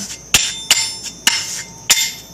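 A hard block is pressed against a lapping plate to embed grit, producing four sharp, loud metallic clinks at uneven intervals with short ringing tails and quiet between them.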